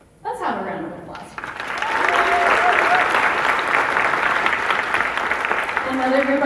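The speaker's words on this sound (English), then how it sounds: "Let's have a round of applause." Concert audience at a summer symphony program applauding steadily after a brief voice at the start, the clapping dense and sustained throughout, with faint tones from instruments sounding underneath.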